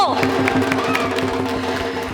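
An audience at a live event cheers and applauds for a singer, a dense, loud crowd sound with scattered claps and voices throughout.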